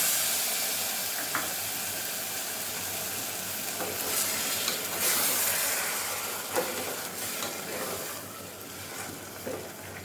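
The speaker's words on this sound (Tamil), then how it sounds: "இப்போ ஒரு விசில் விட்டு ஆஃப் பண்ணிடலாம்." Pressure cooker cooking seeraga samba chicken biryani on the stove gives off a steady sizzling, steamy hiss, with a few brief louder bursts of steam through the middle.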